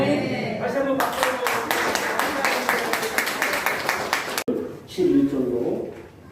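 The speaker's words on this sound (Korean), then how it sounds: "다시 한번 박수" A church congregation claps in rhythm during a Sunday service, brisk and even for several seconds, then breaks off abruptly before a voice speaks.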